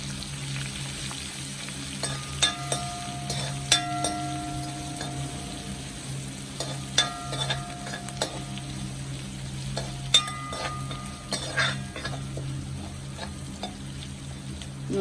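Curry leaves and crushed ginger fry in hot oil in a pan with a steady close sizzle, broken by repeated sharp clinks and scrapes of a spoon stirring against the metal.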